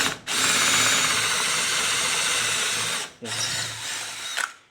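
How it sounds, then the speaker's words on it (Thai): A small electric drill bores a hole while a shelf is being installed, whirring loudly and steadily in two bursts with a short pause between, then spinning down at the end. "นี่ครับเจาะ ผมใช้เป็นสว่านตัวเล็กครับเจาะ"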